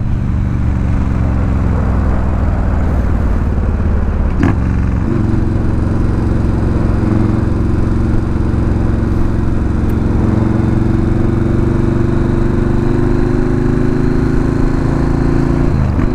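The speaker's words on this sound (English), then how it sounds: "Well, let's heat up the engine." Yamaha Warrior 1700 V-twin motorcycle engine idling while warming up, heard up close: a steady loud low throb with a slight pitch rise around midway, no talk.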